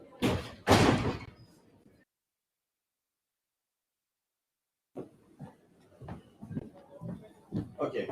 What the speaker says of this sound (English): I'm going to close the door also